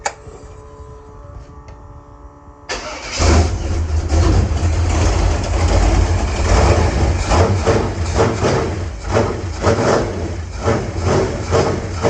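An old high school truck's carbureted engine, with no choke, cranks briefly then catches and starts cold, settling into a loud, rough, steady low rumble up close.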